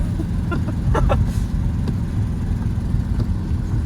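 A car engine with a freshly broken-in cam runs at a steady low rumble, with a few faint ticks and clatters over the top and no talking.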